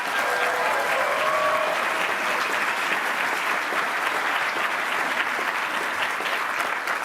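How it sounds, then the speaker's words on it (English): A large convention crowd applauds at the CONvergence 2024 opening ceremony, a loud, sustained roar of many hands clapping, with faint tones drifting in early on. "So round of applause,"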